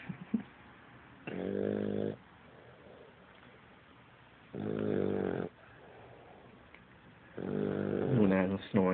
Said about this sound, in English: This is Luna snoring